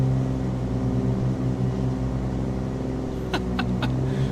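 A Cessna 414 twin-engine plane in a flight simulator game droning steadily and loudly throughout, with a rough, labouring engine note and a few short clicks near the end.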